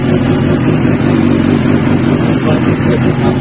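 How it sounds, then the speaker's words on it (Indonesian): A racing motorcycle engine idles and rumbles steadily at close range, a loud, continuous low drone with no speech over it. "Motor balap di sini nih."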